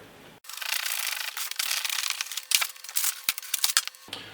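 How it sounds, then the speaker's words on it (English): Machete blade cutting through a batt of Owens Corning insulation, giving a continuous close rough rasping and tearing sound with sharper crunchy scrapes toward the end. "I'm going to try another one with the machete and see if I can get an even cleaner cut down through there."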